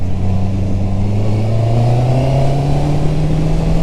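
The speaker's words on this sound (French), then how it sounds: "Donc là, tu vois, poignée à fond, elle a le temps de monter tranquillement. C'est un 4 cylindres" Honda CB650R four-cylinder motorcycle pulls at full throttle, its engine note climbing smoothly and steadily in pitch, loud and close, with no talk over it.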